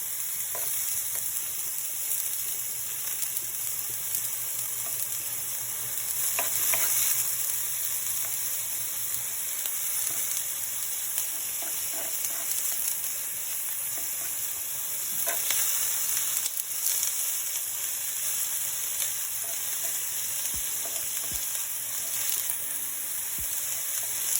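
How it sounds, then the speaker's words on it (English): Peppers and onions fry in a skillet with a constant crackling sizzle, close and fairly loud, and occasional faint spatula movements. "Peppers and onions first."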